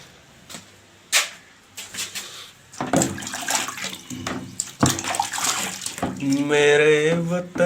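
Fresh water is poured into a container for birds on a hot day, a splashing, gurgling outdoor pour that grows louder and steadier over several seconds, with a sung voice coming in near the end.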